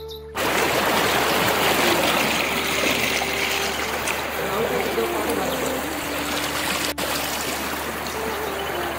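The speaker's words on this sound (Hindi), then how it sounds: "झरना इकट्ठे होकर निकलता है तो हाँ, हाँ एक नदी का रूप लेता है और बहुत ही तेजी से पानी जा रहा है" A fast-flowing mountain stream fed by a waterfall rushes close and loud, a continuous broadband roar of churning water that holds steady throughout.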